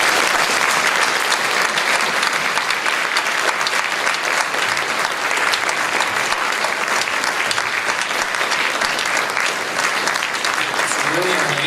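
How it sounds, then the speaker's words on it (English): An audience at a convention panel at Equestria LA 2013 breaks into a loud, sustained round of applause, dense and continuous from start to finish, with faint voices mixed into the clapping. "I just want everybody in the audience to give them a round of applause."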